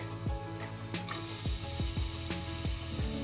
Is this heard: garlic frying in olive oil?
yes